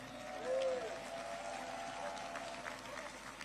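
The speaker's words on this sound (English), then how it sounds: "Give her a round of applause." Crowd at an outdoor political speech in Poland applauding, a broad, steady wash of clapping and crowd noise heard from a distance, moderately loud and continuous throughout.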